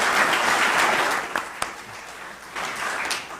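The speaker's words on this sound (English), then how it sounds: "Let's give them a round of applause." Conference attendees applaud their speakers with a burst of dense clapping that thins into a few scattered claps and then swells again toward the end.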